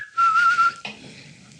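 A six-year-old boy whistling with his mouth, a single steady high note held briefly and close, followed by a short breathy sound.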